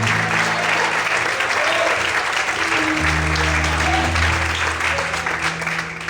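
A church congregation breaks into loud, sustained applause, the clapping thick and continuous, with held instrumental tones sounding underneath throughout.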